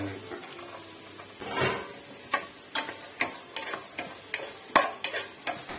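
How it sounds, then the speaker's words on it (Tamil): Vegetables for Schezwan fried rice sautéing in a pan, soft sizzling under repeated scraping stir strokes of a spatula, a dozen or so irregular taps close by and fairly quiet. "அது கூட வந்து வெஜிடபிள்ஸ் எல்லாத்தையுமே போட்டு ஃப்ரை பண்ணிக்கலாம்."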